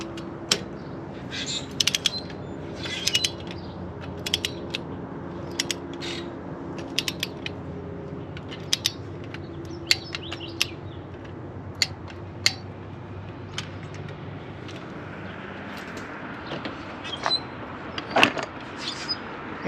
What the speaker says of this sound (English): Now take your torque wrench and torque down the spark plug.